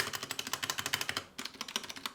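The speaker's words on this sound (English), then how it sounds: "First, you're going to need your keyboard with the rattly stabilizer." Close, quick keystrokes on a mechanical keyboard with a rattly stabilizer, a steady run of sharp clacks with a brief pause midway, no voices.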